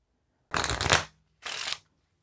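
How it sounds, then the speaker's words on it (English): A magician's card deck is riffled in two quick false shuffles, a longer crisp burst followed by a shorter one, close and fairly quiet with no voices. "he did some false shuffles"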